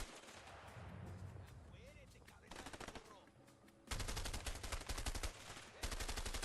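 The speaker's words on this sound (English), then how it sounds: "Oh, okay, we're shooting now." Rapid automatic gunfire in the video game A Way Out, loud dense bursts of shots that build and repeat, with people talking over the shooting.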